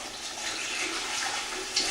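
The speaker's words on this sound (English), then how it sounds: "I have 6 cups of water right here I'm going to add in." Six cups of water poured into a soup pot for a gluten-free Tuscan soup, a steady, close, continuous splashing gush that runs unbroken with no talk over it.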